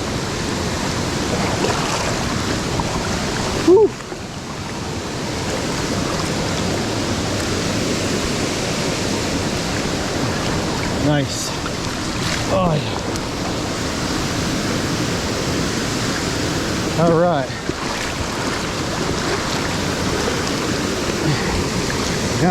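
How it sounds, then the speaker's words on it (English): A Pennsylvania mountain stream waterfall pours in the rain, a dense, steady roar of rushing water close by, with a brief exhale and a few short handling knocks over it. "In the rain, at the waterfall."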